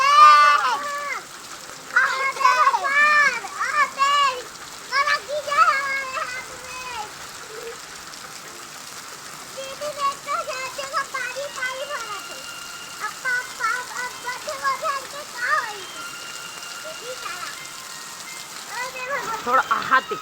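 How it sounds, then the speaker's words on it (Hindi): Heavy rain pours steadily outdoors while a brother and sister play in the water, their voices and shrieks rising over the constant hiss of falling rain throughout. "देखो कितना तेज हो गए बारिश है, बहुत तेज हो गए"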